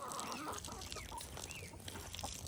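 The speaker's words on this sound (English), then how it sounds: "The chickens. They already had food and water, but they're kind of greedy." Chickens on a small farm cluck continuously at close range, several birds overlapping in a busy, greedy chatter, with no talking.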